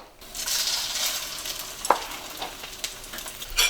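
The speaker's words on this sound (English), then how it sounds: "I'm going to fry up these shrimp carrots." Shrimp surimi and carrot fritters fry in hot oil with a broad, steady hiss, close and even, broken by a single brief clink near the middle and a short burst at the end.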